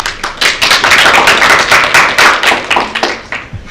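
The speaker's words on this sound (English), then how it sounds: "Round of applause." Small meeting audience at a student senate session claps after a bill vote. The claps are close, loud and distinct, a quick patter with individual hands audible, fading toward the end, and a thump lands near the close.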